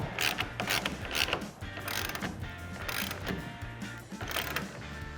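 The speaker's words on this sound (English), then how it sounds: "Grab your 13mm socket and tighten it down." A ratchet driving a 13mm socket to tighten a Truxedo TruXport soft roll-up tonneau cover rail on a 2019-2021 Silverado or Sierra 1500, with a steady run of close, rapid clicking strokes.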